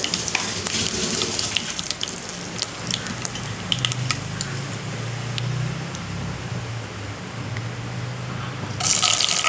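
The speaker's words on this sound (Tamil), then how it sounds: "நம்ம கொஞ்சம் எண்ணெய் ஊற்றி கடுகு போட்டு" Mustard seeds crackle and pop in hot oil while tempering for a black nightshade leaf kuzhambu, with a steady sizzle and scattered sharp spits throughout and no voices.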